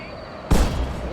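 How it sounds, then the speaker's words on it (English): A 24-pounder cannon fires in a Pike & Shot Total War battle: one sudden deep boom booms out after a brief quiet lead-in, then a rumbling tail fades under a low battlefield din. "these like 24-pounders, they need to turn and start firing"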